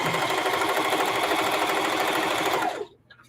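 A sewing machine runs steadily at close range while stitching upcycled old clothes, its rapid even needle rhythm filling nearly three seconds before cutting off abruptly into near silence.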